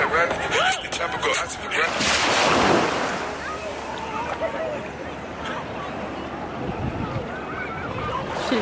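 Ocean surf washing onto a beach in Oahu, a broad continuous rush with a swelling wave near the start and wind buffeting the microphone throughout.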